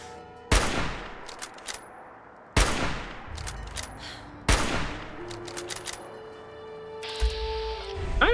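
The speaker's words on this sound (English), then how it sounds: "I love a shotgun that can blast someone across the room, right?" Three loud, sharp shotgun blasts in Fallout 4, spaced about two seconds apart, each with a booming decay, followed by clicks and mechanical reload noises between shots.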